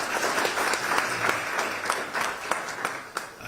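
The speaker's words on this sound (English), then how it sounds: "Let's give him a round of applause." A crowd claps and applauds to welcome Ted White, alumni legend named new head football coach at Howard University, a dense steady patter of many hands at moderate distance.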